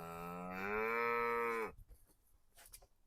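A Simmental cow lets out one long, loud, close moo lasting well over a second, then stops abruptly, leaving quiet farm background.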